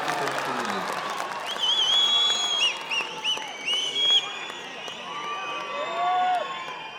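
An audience claps and cheers with scattered whistles and whoops at a Kempegowda Jayanti speech by the Chief Minister. The crowd applause is steady and fairly loud throughout, with swells of cheering.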